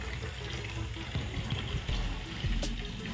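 Water runs steadily from a newly fitted kitchen sink mixer tap, a continuous close hiss and splash into the basin with no pauses.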